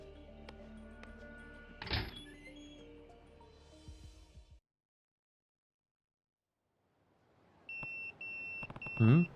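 A pager beeps in the video game Yakuza 0, a thin electronic chirp repeating in short bursts after a stretch of silence, preceded by game sound effects with a thump and a clatter.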